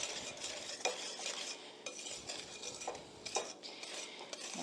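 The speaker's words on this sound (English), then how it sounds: "Just mix this until our flour is all incorporated." Spoon scraping and stirring brownie batter in a bowl as flour is mixed in: steady, close, overlapping swishes and soft scrapes for several seconds, with no talking.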